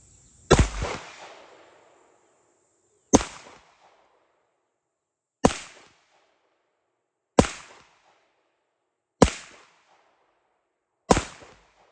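Six sharp gunshots from a Rock Island Armory STK100 pistol firing Winchester White Box 115 grain rounds, spaced a couple of seconds apart, each a loud crack with a short outdoor echo; the first shot rings longest.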